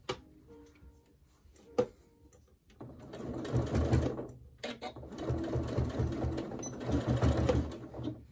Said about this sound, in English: we're going to go ahead and top stitch that in place as well